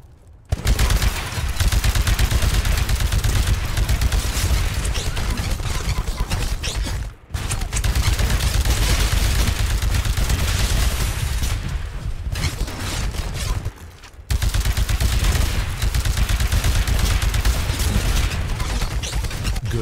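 Heavy gunfire from an anti-Titan weapon in the video game Titanfall, a dense, continuous barrage of loud shots running almost nonstop, broken only by two brief pauses.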